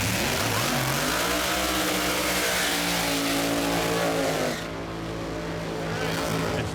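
Stevie Fast Jackson's drag racing car runs at full throttle down the strip at a 4-wide event in Charlotte, a loud, close, sustained engine roar with a climbing pitch that cuts off abruptly toward the end, leaving a lower rumble.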